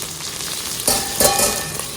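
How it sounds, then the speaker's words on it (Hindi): Cashews fry in a pan for a gravy with a soft, steady sizzle and crackle. Brief louder bursts of spattering and stirring come near the middle, with no talk over it. "देखो काजू एकदम से पक जाते हैं"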